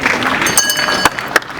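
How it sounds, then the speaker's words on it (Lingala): A church congregation applauds a testimony in a short burst of scattered clapping with a few sharp claps standing out. Voices murmur underneath. "Est-ce qu'on peut applaudir pour ce témoignage"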